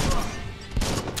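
A couple of quick, loud gunshot bursts in the action game Biomutant, close and punchy against a dense, noisy game background.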